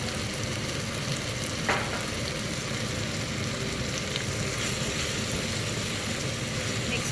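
A pot of potatoes boils steadily on the stove while vegetarian varuval is cooked, giving a constant loud bubbling hiss that runs unbroken throughout with no voices.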